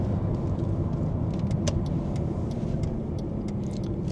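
Mercedes W204 C200 CDI diesel engine pulling at around 3,000 rpm in third gear through a long bend, a steady droning cabin hum with road rumble and occasional small clicks.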